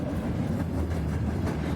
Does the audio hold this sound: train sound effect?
yes